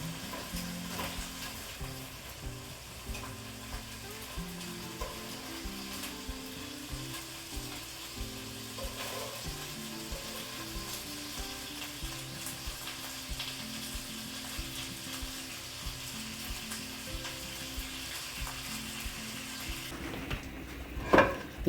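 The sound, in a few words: bacon frying in a pan until crisp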